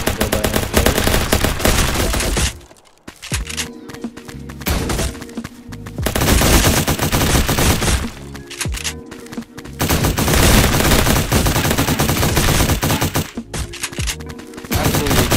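A gold SMG firing in Fortnite, loud continuous automatic bursts lasting several seconds each with short gaps between them, dense and close throughout.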